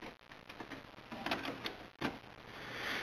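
A Canon MG8150 inkjet printer fitted with a continuous ink system, its printhead shuttling back and forth: faint, quiet mechanical whirring with repeated soft clicks and ticks in an irregular rhythm.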